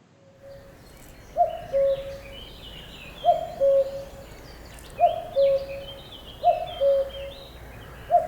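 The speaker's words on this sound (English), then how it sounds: "As soon as I hear that cuckoo, I just know that summer's on its way." Common cuckoo calling in a spring dawn chorus, its two-note call repeated four times in a steady rhythm, fairly close and clear over soft background birdsong.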